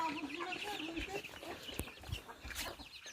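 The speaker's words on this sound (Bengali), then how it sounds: "আর এ হচ্ছে আমাদের মুরগি" Chickens on a village homestead near a pond cluck faintly and intermittently from close by, set against soft outdoor ambience.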